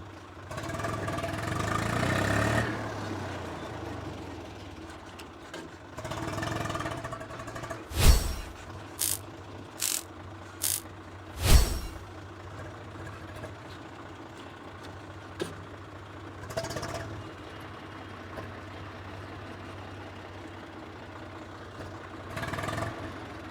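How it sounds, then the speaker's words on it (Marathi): Swaraj 744 XM tractor from 2018 idling steadily with a low drone, broken by several sharp loud mechanical clunks and knocks from gear shifts in the middle, with no talking. "आता एक एक गिअर टाकून दाखवतो."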